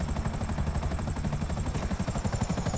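A helicopter in GTA 5, its rotor chopping in a fast, steady pulse over a loud engine whine, close and continuous.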